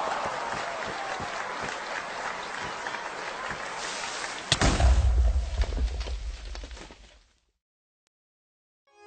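Crowd applause at the close of a Minecraft music parody, busy clapping that gets louder with a sudden heavy thump midway, then cuts off abruptly into silence.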